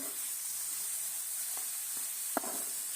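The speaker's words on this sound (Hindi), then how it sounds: "अब जो है वो हम इसको अच्छे से मिक्स कर देंगे चिकन को" Frying chicken for jalfrezi sizzles steadily in a hot pan, with a few soft scraping stir strokes and one sharper clink near the end, no voices.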